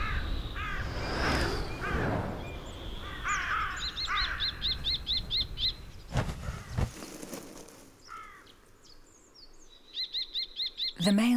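Carrion crow nesting on a cliff, giving a series of harsh repeated caws in short bursts, loud and close, with a sharper burst of rapid calls near the end among other bird sounds.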